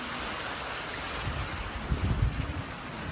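Steady rain falls over open farmland, a dense even hiss with a few louder patters toward the end.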